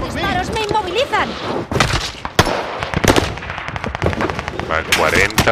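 Gunfire in the video game Warzone: sharp, loud shots in rapid bursts and scattered single cracks, mixed with game sounds and a voice talking over the action.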